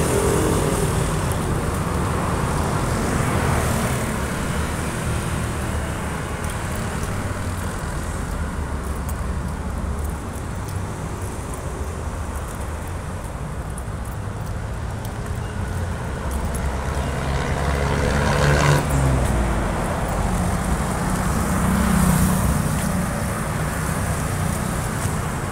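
Traffic on a highway in front of the KOJC compound: continuous roar of passing cars and vehicles, with swells as louder ones go by, plus some wind noise, heard steadily from the roadside without talk.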